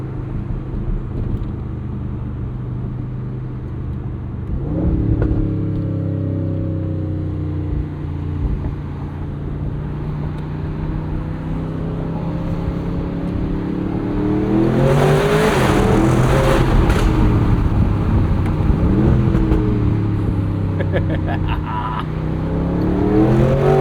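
A 2026 Aston Martin Vantage S roadster with a 670hp V8 drives close by, its engine loud and steady, then revving and accelerating through rising gear pulls with throaty harmonics.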